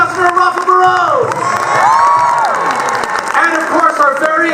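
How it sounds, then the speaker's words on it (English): An outdoor crowd at a Disneyland Resort evening event breaks into loud applause and cheering, with whoops and children's shouts mixed in as a voice on a public address speaks over it. "I'm going to give a big round of applause for our Girl Scouts State Consortium"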